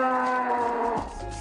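Dairy cattle on a farm in Ghana give one long, loud, close moo that drops lower toward the end, with no talking.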